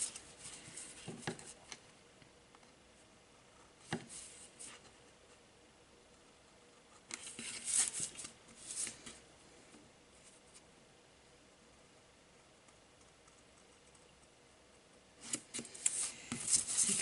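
Scissors snip through paper while paper snowmen are cut out for a Christmas explosion box craft. Short crisp cutting bursts come close and alone, with long quiet gaps between them.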